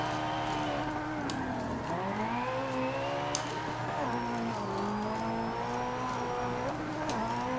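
A drift car's engine holds a sustained, close, loud drone through a turn, its pitch sliding down and back up as revs rise and fall, with faint tire squeal above it.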